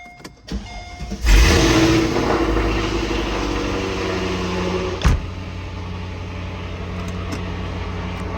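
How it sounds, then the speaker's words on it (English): A Mercedes SL55 AMG with a supercharged M113K V8 and newly fitted mid-length headers cranks briefly, then fires up loud and close. It settles into a steady, rumbling idle, with a sharp blip partway through. "We're about to start up the car. Let's go ahead and bring her to life."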